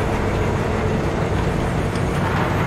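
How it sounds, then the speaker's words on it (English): Steady, loud rumble of a cargo train in Cyberpunk 2077, a continuous dense roar with no breaks, close and unbroken throughout. "Oh, the train. Pulling cargo, too."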